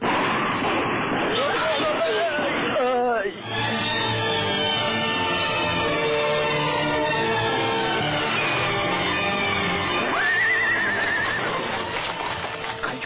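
A horse whinnies loudly in a dramatic Mexican telenovela scene, its neigh rising clearly over a busy backdrop of voices, hoofbeats and commotion, with a second whinny following later.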